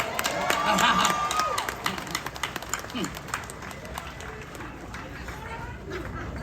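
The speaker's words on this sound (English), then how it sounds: "give yourselves a round of applause for being here today" A crowd at an outdoor reparations rally applauds and cheers, scattered claps and voices spreading across the gathering, fairly distant and tapering off with chatter underneath.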